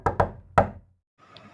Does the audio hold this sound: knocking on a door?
yes